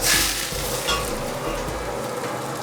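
Mustard seeds and curry leaves sizzle steadily in hot oil in a hotel kitchen in Davangere, a dense continuous crackle close by without talk.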